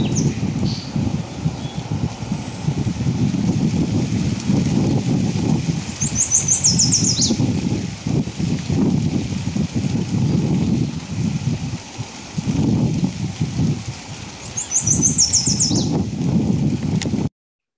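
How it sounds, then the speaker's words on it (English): Birds singing outdoors on a windy day, with a steady low wind roar throughout and two bright, high trilled bursts of birdsong standing out above it, one early and one near the end. "that doesn't really stop the birds from singing"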